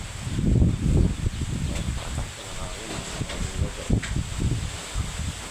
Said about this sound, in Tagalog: Ingat-ingat po tayo ngayon dahil malakas ang bagyo.